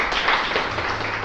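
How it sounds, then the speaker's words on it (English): A conference audience applauds a speaker after a Chrome OS developer talk, a dense, steady wash of many hands clapping in a hall, moderately loud and unbroken. "a big round of applause for Max"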